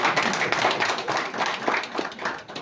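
An audience claps in a dense patter of many hands, fairly close and steady for a few seconds, with no voices standing out.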